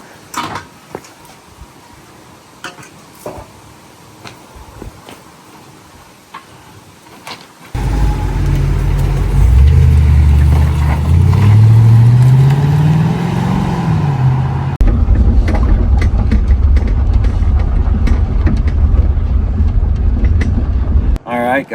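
A car carrying a heavy-duty e-bike tire-clamp rack starts up partway through: quiet handling noises and clicks give way to a loud, steady engine and road rumble with a rising tone, continuing close.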